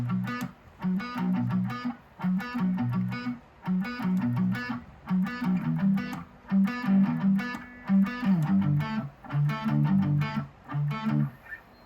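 A repeating electric guitar riff, the verse of a song, with a driving, chugging rhythm, played in steady phrases with brief gaps between them; no voices.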